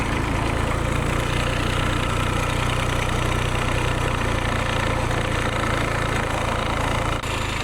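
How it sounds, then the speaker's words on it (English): John Deere turbo diesel engine in a motorcycle idling steadily nearby, a loud, even rumbling clatter throughout with no talk. "Let's go show off the coolest diesel bike on the planet."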